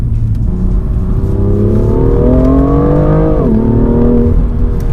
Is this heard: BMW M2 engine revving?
yes